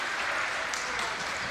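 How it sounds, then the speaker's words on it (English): At an all-star volleyball match, the crowd and the team bench erupt after an ace serve, a dense, continuous wash of cheering and applause that holds steady throughout. "And the crowd and the bench goes wild."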